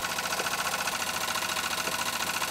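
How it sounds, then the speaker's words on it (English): A fast, even mechanical chugging with a light metallic rattle, steady and close, like a small engine running without pause: a steam engine running on slightly thin lubricating oil. "By the sound of the engine, I can tell that the lubricating oil is a bit on the thin side"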